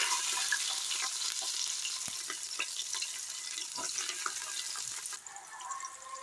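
Onions go into hot oil with popped mustard seeds and fry with a steady crackling sizzle and scattered sharp pops, moderately close, before the sound thins out near the end.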